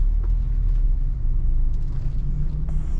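A car pulls in to park at a suspension repair workshop in Bandung, with a steady, close, low engine rumble that continues throughout and no talking.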